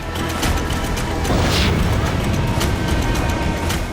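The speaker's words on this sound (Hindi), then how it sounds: "सोची में 20 धमाकों की आवाज सुनी।" Explosions from Ukrainian drone attacks in Sochi, Russia: a dense, continuous rumbling roar with a brighter burst near the middle, loud throughout and with no voices.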